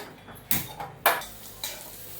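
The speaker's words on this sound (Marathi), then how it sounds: "कांदा आता लाल होत आलेला आहे" Onion fries for a Marathi-style masala, with a low sizzle broken by several sharp clinks and scrapes of a spatula against the pan, heard up close.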